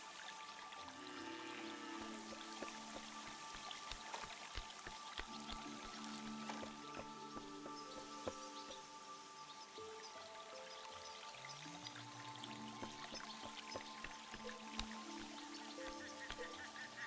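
In the video game A Juggler's Tale, water pours steadily for a thirsty cow, a soft continuous trickle with scattered drips over a quiet musical background, no voices.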